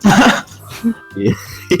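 A voice mimics a short cough, a gruff throat-clearing burst followed by a couple of brief vocal sounds, close and loud.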